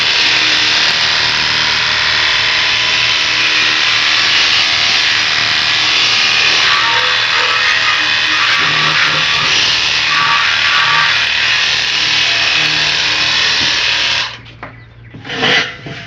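Pressure washer spray blasting a very dirty grill cover lid, a loud, steady broadband hiss that holds for about fourteen seconds before cutting off into a few brief softer bursts.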